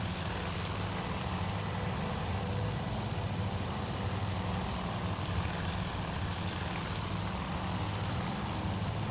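Fighter aircraft engines in the naval combat game Task Force Admiral give a steady, dense propeller drone that holds evenly throughout, loud and continuous with no talk over it.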